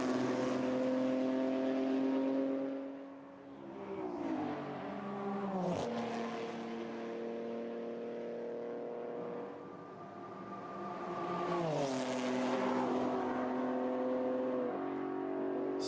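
GT4 race cars, Mustangs and BMWs among them, drive past on the Jeddah circuit during qualifying, engines whining and shifting gears in several overlapping passes with rising and falling pitch.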